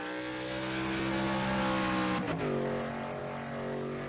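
A NASCAR truck racing on the Daytona road course in a racing video game, its engine droning loud and steady at high revs, dipping briefly with a downshift before climbing again.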